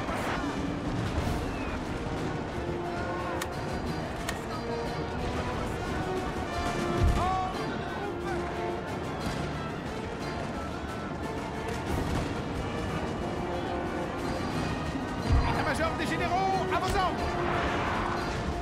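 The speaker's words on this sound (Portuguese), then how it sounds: "Eu tô acertando minhas unidades com os meus canhões." Cannons fire repeatedly on a Napoleon: Total War battlefield, with scattered booms and crashes mixed into a busy din of battle, all heard under someone talking.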